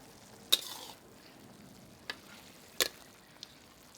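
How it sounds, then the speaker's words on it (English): Snapping turtle simmering in a pot is stirred, giving a few faint scattered clinks and scrapes of the spoon over a quiet low bubbling background. "Give it a mix."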